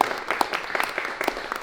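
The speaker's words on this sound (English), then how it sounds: "round of applause for that" Workshop participants at a design session clap for a tactile design piece, a short burst of scattered group applause with distinct individual claps, moderately close.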